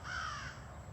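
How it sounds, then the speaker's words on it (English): A single crow caws once outdoors on a Naperville morning, fairly loud against a steady background hum. "Did you guys hear that crow?"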